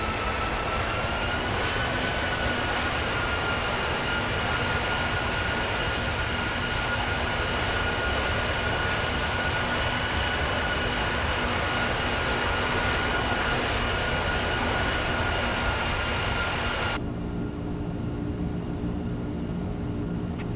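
General Electric engines on a PMDG Boeing 747 in the FS2004 flight simulator, cruising: a steady, loud broadband jet roar with faint tonal whine, continuous throughout and dropping in brightness near the end.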